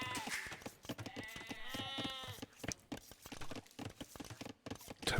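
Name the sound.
sheep bleating in a video game (Age of Empires)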